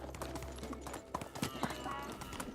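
A horse trots along in the video game Medieval Dynasty, its hooves clip-clopping in a quick, even rhythm, close and clear, with a voice talking faintly underneath.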